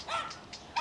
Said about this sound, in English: Dog's still going.